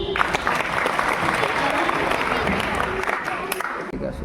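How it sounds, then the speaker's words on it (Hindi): Loud, sustained applause and crowd noise fill a school quiz competition hall, a dense steady wash of clapping from a large audience. "ठीक है, जोरदार ताली"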